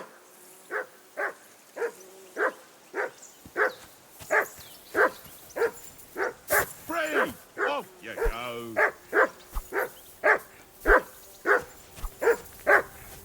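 A dog in Kingdom Come Deliverance 2 barks repeatedly in a steady, loud rhythm, close by, with people briefly shouting over it midway.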